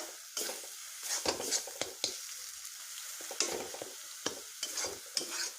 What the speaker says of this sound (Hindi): बस इसको थोड़ा सा फ्राई कर लेना है इसके साथ।